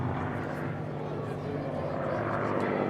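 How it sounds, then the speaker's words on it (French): A P-51 Mustang fighter aircraft flies at the 2017 La Ferté-Alais air show, a steady broad engine drone of constant loudness with a voice present alongside it. "qui est devenu le chasseur probablement le plus emblématique de l'histoire de l'aviation, le Mustang"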